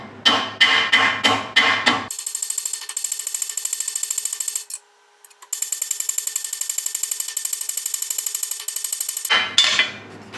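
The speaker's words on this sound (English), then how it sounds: "All we need is a hammer with like a flat, something flat" Sharp hammer blows strike a flat steel window patch panel for a 1959 Chevy Apache in a quick, close, rhythmic burst. A long run of fast metallic ticking follows, then a few more hammer strikes.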